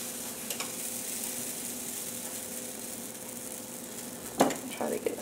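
Sourdough English muffin dough sizzles quietly on a greased griddle, a soft continuous hiss, then a brief clatter of a scoop or utensil near the end; no talking.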